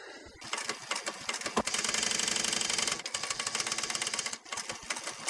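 Sewing machine running steadily as it stitches a border join on an upholstery bench seat cushion, a loud continuous mechanical whir with brief pauses and restarts, alone without talk.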